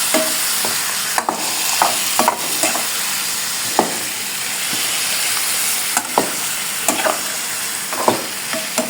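Spices with cinnamon powder sautéing in a pan, a steady close sizzle broken by repeated scraping stirs and light clinks of the spoon against the pan.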